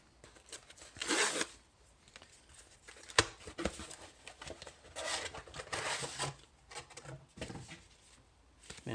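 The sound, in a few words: opening heavily packaged trading card delivery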